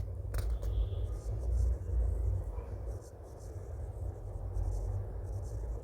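Writing on a classroom board during a history lesson, with soft scratchy strokes coming and going over a steady low rumble of room noise, fairly close and quiet.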